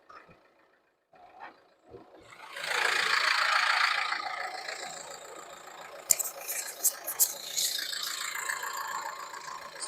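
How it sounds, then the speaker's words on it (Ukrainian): A Renault Megane 3 with the 1.5-litre K9K diesel idles under an open bonnet, a broad steady engine rumble that sets in after a few seconds of quiet handling noises. Near and fairly loud, with a few sharp clicks toward the end. "Зараз будемо слухати, як машинка працює."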